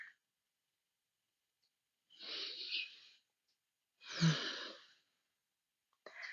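Slow deep breathing during a yin yoga shoulder and back session: two long, close breaths around two and a half seconds apart, one softer and one heavier, with quiet pauses between and no talking.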